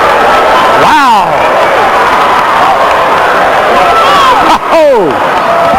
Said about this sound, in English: that brought the Greyhound crowd to life